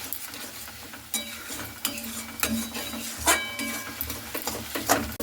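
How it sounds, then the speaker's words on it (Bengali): Fried potatoes being stirred with spice masala in a pan for ghugni, a spatula scraping and knocking against the metal in repeated irregular strokes over a soft sizzle. "এরপরে আলু ভেজে রাখাটা দিয়ে খুব ভালো করে এইভাবে মশলার সঙ্গে আমি কষতে নিচ্ছি"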